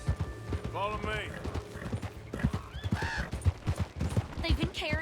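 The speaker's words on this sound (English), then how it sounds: "Get on your horse. Follow me." Horse hooves clip-clop in Red Dead Redemption 2 in a quick uneven rhythm near the listener, mixed with whinnies, honks and other game sounds, with voices talking over them.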